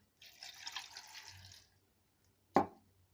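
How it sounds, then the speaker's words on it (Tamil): A tumbler of water is poured into a mixer jar holding pineapple for juice, making a short, soft splashing pour and then a single sharp knock after a pause. "போட்டுட்டு ஒரு டம்ளர் தண்ணி ஊற்றலாங்க"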